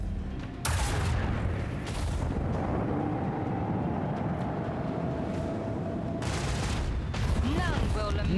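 Macro cannons firing in Warhammer 40,000: Rogue Trader: a dense barrage of heavy booms and rumbling blasts rolling on for several seconds, with a lower hum beneath and short bursts of sharper report.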